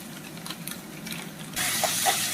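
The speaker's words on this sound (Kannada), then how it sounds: "ಫ್ರೈ ಆಗ್ತಾ ಇರುವಾಗ ಒಂದು ಸ್ಪೂನು ಶುಂಠಿ ಬೆಳ್ಳುಳ್ಳಿ ಪೇಸ್ಟ್ ಹಾಕ್ತಾಯಿದ್ದೀನಿ" Onions sizzling in an open pan as a spoonful of ginger garlic paste goes in for a capsicum and onion masala, a steady hiss that jumps louder and brighter partway through, with faint clinks over it.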